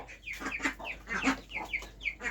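Black and white hens in a village setting cluck in quick, close bursts, several short nasal calls overlapping in an uneven rhythm against a quiet background.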